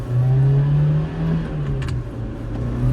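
Close, steady engine note of a manual car revving up to its 7,800 RPM redline, holding high and loud before easing slightly.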